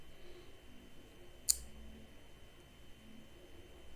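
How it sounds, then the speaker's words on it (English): A single sharp, close mouse click sounds once against a quiet room hum while operating GIS software. "then you click"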